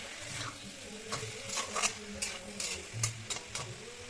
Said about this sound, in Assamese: এয়া নিমখখিনি দিয়াৰ পিছত পুনৰ লৰাই দিছোঁ।